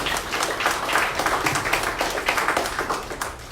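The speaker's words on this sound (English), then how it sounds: "please give a huge round of applause for this gentleman" Audience applause for Harold Seitz at a Karatbars CEO event in Hawaii, a dense steady patter of clapping hands sustained throughout without a break.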